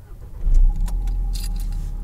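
A manual-transmission car starting up, with a brief crank that rises into a steady low idle rumble heard close from inside, and light jingling above it.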